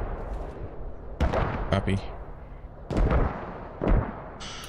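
Gunshots ring out in a tactical military shooter: several loud, sharp reports with echoing tails, a couple of them in quick pairs, spread across a few seconds while players talk briefly over radio.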